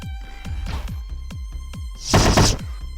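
Game combat effects: a rapid series of rhythmic thunks, then a loud burst of hissing, crashing impacts near the end.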